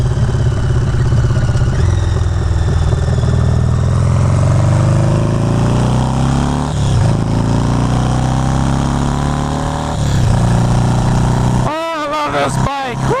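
A motorcycle rides an open road, its engine droning loud and close, pitch climbing and dropping through gear changes with wind rush, ending in a brief whooping voice.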